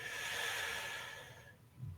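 A slow, deep breath is drawn in during a Shiatsu exercise, a steady soft airy hiss lasting over a second before trailing off into quiet.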